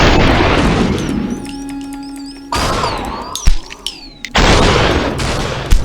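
Gunshots in the video game SuperHot: several sharp, booming synthetic shots ring out one after another, with hard cuts and brief gaps between bursts, loud and close.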